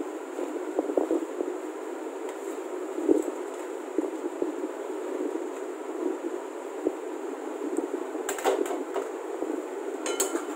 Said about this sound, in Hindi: ये कोफ्तों को अच्छे से मिक्स करें ग्रेवी के साथ